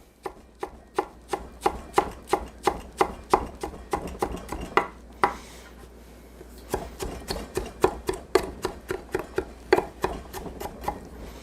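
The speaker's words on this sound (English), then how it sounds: "we're gonna take those wilted nettles that we have and we're gonna chop them up" A knife chopping wilted nettles on a cutting board in steady, evenly spaced close thuds, pausing briefly midway before the rhythmic chopping resumes.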